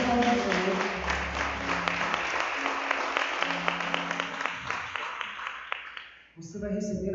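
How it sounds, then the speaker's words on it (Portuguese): A Portuguese-speaking church congregation claps for the Lord at a Sunday service, a sustained moderate clatter of hands over organ-like sustained tones, fading out before voices resume at the end. "Pode aplaudir o Senhor."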